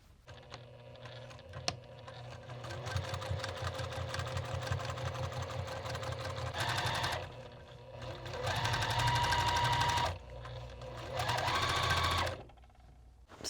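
Sewing machine quilting a small doll quilt, running in steady fast bursts with short pauses between stitching runs, close and clear, with no talking.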